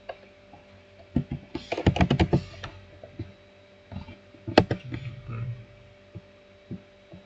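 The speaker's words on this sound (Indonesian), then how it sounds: "kita typing saja, ketik" Someone types on a computer keyboard while working through a Google Kubernetes Engine lab, with bursts of close keystrokes separated by pauses over a faint steady hum.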